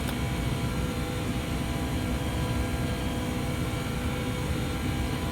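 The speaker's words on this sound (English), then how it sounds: "Is the engine's a little loud, or is it me on my end?" Simulated jet engines of a ToLiss A321 airliner in the X-Plane 11 flight simulator produce a constant, dense, loud drone with no change in pitch.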